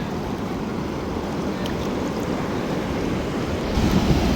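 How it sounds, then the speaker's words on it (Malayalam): Sea waves break and wash continuously around someone standing out in the shallows at Lakshadweep, a close, even surf roar mixed with wind buffeting, swelling slightly louder near the end. "ആ ദേഹം വരുന്ന തരാ തിര അടിച്ച് വരുന്നു"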